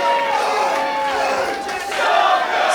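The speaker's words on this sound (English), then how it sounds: "Jake Something trying to get this crowd behind him here" Wrestling crowd at an independent show cheering and shouting behind a wrestler who is down on one knee, a steady loud roar of many voices that swells louder near the end.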